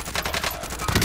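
Gunfire in Call of Duty: Modern Warfare, a quick series of loud, close shotgun-like blasts repeating roughly every quarter second in a short burst.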